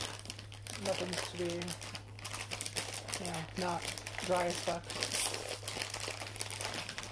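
A plastic baggie around an Entenmann's Little Bites banana muffin crinkles and rustles in close, irregular bursts as it is tugged open by hand, heard beneath a person talking casually.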